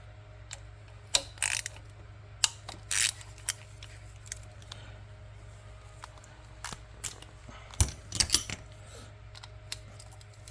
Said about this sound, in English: you get your T56 and you want to loosen these up